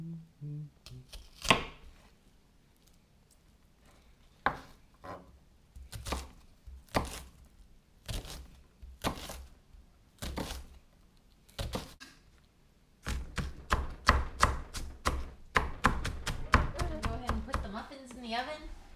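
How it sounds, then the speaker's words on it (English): A knife chops an onion on a home kitchen cutting board: sparse single cuts at first, then a quicker run of rhythmic sharp taps near the end, with quiet room sound between strokes. "Chopping up the onion now."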